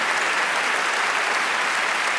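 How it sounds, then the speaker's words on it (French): Dense audience applause fills a stand-up comedy gala, a loud, continuous roar of many hands clapping with no pauses. "Encore un tonnerre d'applaudissements pour Fanny Ruet,"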